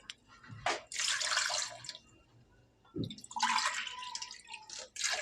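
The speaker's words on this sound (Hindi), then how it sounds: "हम इसमें 4 कप पानी शामिल कर देंगे" Water poured into a cooking pot holding jaggery for a syrup, two close pours splashing steadily, separated by a short pause and a soft knock of the vessel.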